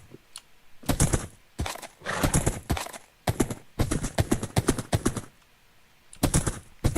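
Horse hooves clip-clop in the Minecraft survival game in quick, crisp clusters of clicky steps, separated by short silent gaps.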